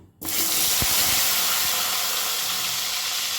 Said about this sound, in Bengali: এখন আমি এর মধ্যে দিয়ে দিচ্ছি সেদ্ধ করে কেটে রাখা কচু